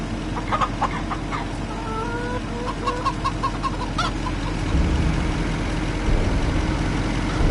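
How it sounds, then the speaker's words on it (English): Chickens clucking in Farming Simulator 25, a run of short clucks and a rising call over a steady low engine-like rumble, fairly close and moderate. "Why don't we say hi to the chickens real quick?"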